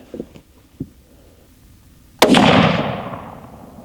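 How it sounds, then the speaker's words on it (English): A Remington rifle fires a single 49-grain load outdoors: a few faint clicks and taps, then one loud sharp report that rings out and decays over about a second and a half. "Let's shoot 49 grains at that bottom left-hand target there."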